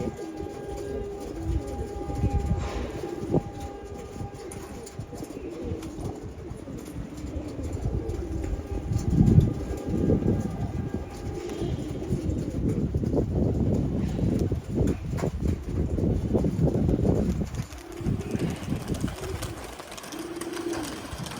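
Pigeons of mixed males and females coo faintly amid a steady rumbling background that swells and fades, with soft flutters of wings as birds land and take off.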